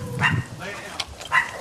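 A dog barks in a house during a police call, two sharp close bark bursts spaced about a second apart, with a voice talking over and between them.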